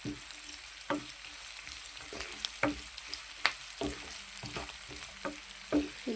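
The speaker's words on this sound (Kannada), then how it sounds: "ಈರುಳ್ಳಿ ಚೆನ್ನಾಗಿ ಫ್ರೈ ಆಗ್ತಾ ಬಂತು." Onions frying in a pan for capsicum curry, a steady soft sizzle with scattered stirring scrapes and small pops, fairly quiet and without speech.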